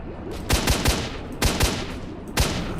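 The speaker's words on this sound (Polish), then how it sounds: "Słyszę jakieś strzały." Video game gunfire: several sharp gunshots ring out in irregular bursts, two or three quick cracks at a time, loud and close over a steady low background rumble.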